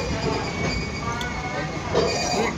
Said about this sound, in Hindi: ये ट्रेन चली हुई है इस साइड।